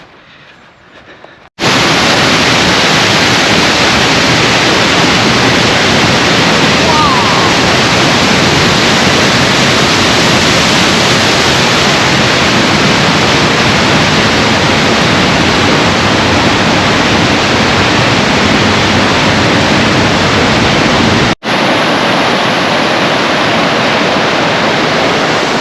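A waterfall in full flood at Aysgarth Falls roars as a loud, steady, broadband rush of water, close and continuous for the whole stretch with only a momentary break near the end.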